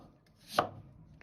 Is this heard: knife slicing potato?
yes